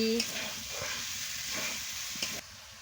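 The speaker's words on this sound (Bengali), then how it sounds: "ফুলকপি আর আলুটা দিয়ে দিচ্ছি মশলার সঙ্গে, দিয়ে ভালো করে কষিয়ে নিচ্ছি" Cauliflower and potato being fried with spices in a pan for a fish curry, stirred to coat them: a soft continuous sizzle with a few brief scraping stir strokes, close and fairly quiet.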